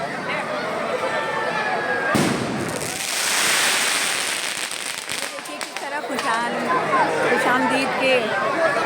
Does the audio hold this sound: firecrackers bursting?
yes